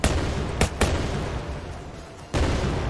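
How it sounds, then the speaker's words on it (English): Grenade explosions thrown by zombies in a Nazi zombies video game, a couple of sharp booms early on and another heavy blast near the end over a loud, dense rumble of game noise. "These things can throw grenades now."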